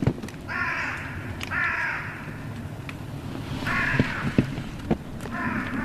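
Crows caw in harsh, repeated bursts, several calls spaced out over a rustling, noisy outdoor background with a few sharp knocks.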